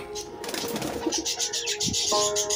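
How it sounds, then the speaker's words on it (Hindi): A female pigeon coos at the nest where two newly hatched chicks lie, producing soft low murmuring calls amid light rustling and background noise, with faint speech. "ये कबूतरी आ गई है"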